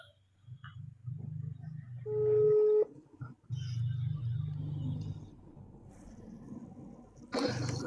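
A telephone call is placed, a single steady dial-tone beep sounding for under a second amid low engine-like rumble and faint background noise.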